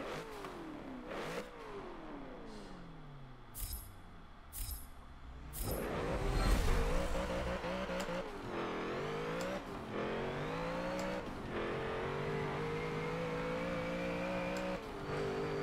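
A 1000hp drag car in Forza 7 revs hard off the limiter, its engine rising and falling in loud repeated pulls with sharp pitch sweeps, building to a louder burst midway and then holding a steady high drone.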